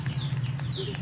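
Brief, close clucking from ducks over a low steady hum, with a couple of short squeaky calls.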